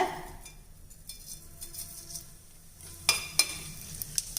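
Faint sizzling of cinnamon, cloves, fennel and cumin frying in hot coconut oil, with a few sharp clinks and scrapes of a spoon stirring in the pan.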